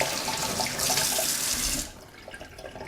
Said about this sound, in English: So let's have some water running here.